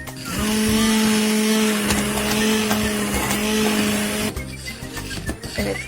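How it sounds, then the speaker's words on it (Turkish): A hand blender purees a pot of tomato soup with a loud, steady motor whine that holds for about four seconds, then cuts out, leaving some clatter in the pot. "Şimdi mikserden geçireceğim bunu."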